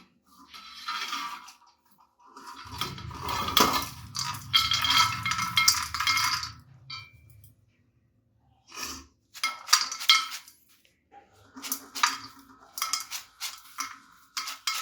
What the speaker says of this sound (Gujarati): આપણે જાળીવાળા વાસણમાં લઈ અને એના બધા ફોતરા આપણે કાઢી દઈશું